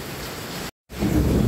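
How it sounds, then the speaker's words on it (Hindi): Heavy monsoon rain makes a dense, steady hiss with a deep rumbling undertone, broken by a brief silent gap before resuming even louder. "दोस्तों गर्मी ने बता दिया था कि बारिश ऐसी ही आएगी"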